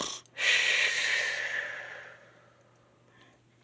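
A person's voice imitating a big, loud bear snore: one long breathy rasping exhale that swells early, then fades out over a few seconds, with no other sounds.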